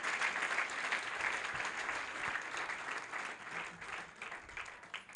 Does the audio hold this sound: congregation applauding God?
yes